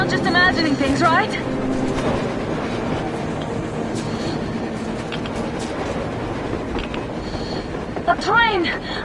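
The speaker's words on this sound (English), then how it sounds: "A train! A damn train on the surface!" Rumbling train from the video game Metro rolls across the surface through a blizzard, a steady low roar with clanks and a few squealing wheel tones near the start and end, while voices talk over it.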